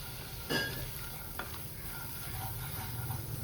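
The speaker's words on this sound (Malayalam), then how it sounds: "2 ടേബിൾ സ്പൂൺ മൈദ ബട്ടർ നന്നായിട്ട് മിക്സ് ചെയ്തെടുക്കാം" Maida flour and butter with garlic stirred in a pan over low heat make a faint, even sizzle, with a couple of soft spoon knocks against the pan.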